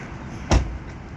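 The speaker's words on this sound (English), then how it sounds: "So this is that automatic door." A 2021 Ford Explorer Police Interceptor K9 unit's automatic rear door pops open with a single brief thud, close by and alone against a faint background hum.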